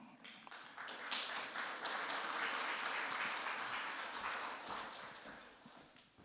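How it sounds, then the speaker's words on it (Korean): Warm applause from a church congregation welcoming the pastor to a Saturday worship service, dense clapping that swells quickly, holds steady for several seconds and then tapers off. "우리 따뜻한 박수로 목사님을 모시겠습니다"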